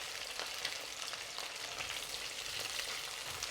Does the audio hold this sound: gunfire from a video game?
no